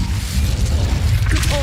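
Incendio fire spell cast in Hogwarts Legacy, a short burst of whooshing flame with a low boom, loud and close, over a dense game soundscape.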